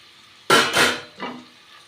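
Water splashed from a pan or bowl into a frying spice paste of ground white sesame and grated coconut, a loud burst of sizzling and sloshing followed by a second, quieter splash.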